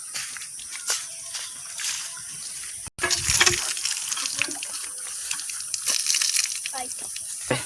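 A water tap runs in a steady rushing stream with a brief break partway through, splashing into a vessel close by, while voices talk faintly behind it.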